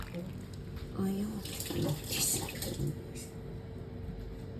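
A kitchen tap runs steadily into a sink, filling with water for rinsing, a continuous splashing rush that holds throughout, with a voice speaking softly in the background.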